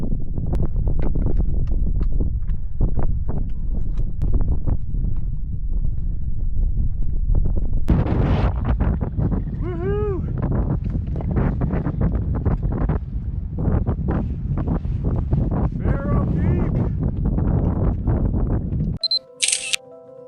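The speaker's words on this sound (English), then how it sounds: "The wind was picking up" Strong wind blows across the summit of Pharaoh Peak in the Canadian Rockies, a continuous low roar buffeting the microphone with gusts that swell and ease, ending in a short burst of sharper sound.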